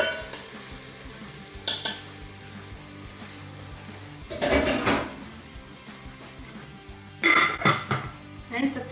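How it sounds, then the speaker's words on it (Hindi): Hot tadka is added to Karachi-style beef nihari with clanks of pots and utensils, stirring and bursts of sizzling spread through the clip. A faint voice is present under the kitchen noise. "अब मैं इसे निहारी पे लगा दूंगी। ये देखिए व्यूअर्स, मैं इसे तड़का लगा रही हूँ।"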